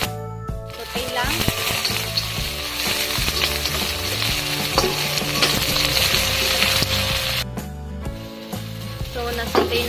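Ginger and red onion sauté in a hot pan with oil, a steady loud sizzle with scraping and stirring clatter throughout, backed by background music.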